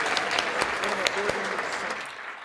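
Audience applause at a Latino community center's Destino Dinner, honoring a trio after their performance; a dense, steady wash of clapping fills the room, with a few sharper claps standing out.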